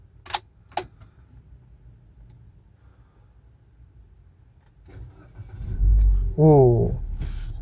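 A 2019 Nissan Livina VE automatic MPV starts up. After two sharp clicks and a quiet pause, the engine catches with a low rumble that swells into a brief rev. A voice briefly overlaps the engine.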